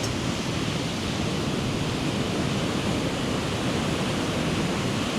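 Waves wash against a beach in the aftermath of Storm Amy, a continuous, dense roar of surf filling the whole span at steady loudness without any voices.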